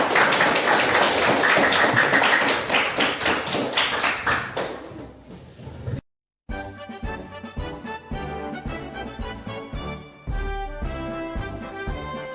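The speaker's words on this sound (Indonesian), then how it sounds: "Tepuk tangan dulu." An audience applauding at a teachers' program event in Mimika, with a burst of steady clapping that swells and then fades over several seconds. After a short gap, rhythmic music with tapping beats follows.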